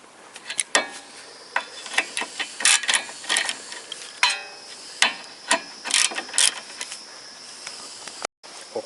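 Spaced, sharp ticks of a torque wrench sound as it tightens a driveshaft fastener on a 2007–2015 Toyota Corolla, each close, crisp click coming alone in an uneven rhythm.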